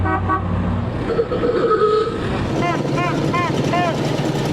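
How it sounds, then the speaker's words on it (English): Car horns beep several times in a quick repeated pattern as cars drive past on a route lined with spectators, with engine noise, crowd voices and talk running underneath. "Just watching all the cars come past, really cool cars, and just waving at them and when they beep."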